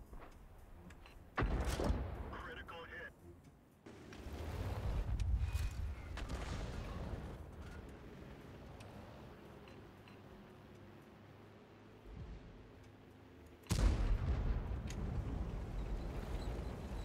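Crusader SP self-propelled artillery gun firing with its stock gun in a tank video game, booming shots at intervals, the loudest ones near the start and late in the clip, with rumbling noise between them.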